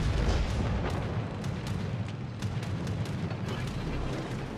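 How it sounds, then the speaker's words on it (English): Torpedoes striking a warship in a naval battle video game featuring the French battleship Jean Bart, heard as a loud, continuous low rumble with repeated heavy booms and blasts and no talking. "you can hear the torpedoes coming in"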